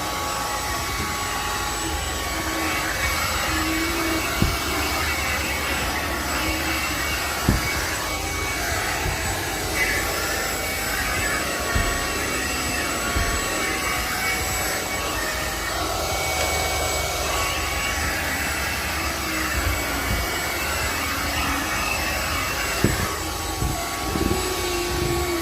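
MooSoo K23 Pro cordless stick vacuum running steadily on carpeted stairs, a loud, even motor whine with a high tonal hum, punctuated by occasional knocks and bumps as it moves step to step.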